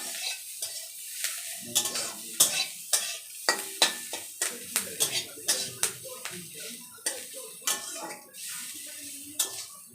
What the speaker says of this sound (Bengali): ভালো করে নাড়িয়ে চাড়িয়ে আমি ভেজে নেব